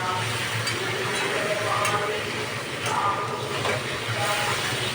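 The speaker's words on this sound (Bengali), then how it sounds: "যতক্ষণ ভালো মতো কষবে ততক্ষণ আমি এটাকে কষাতে থাকবো" Curry spices with Kashmiri chilli powder being sautéed and stirred in a pan for a goat liver curry, a steady broadband sizzle with scraping stir strokes running throughout at close range.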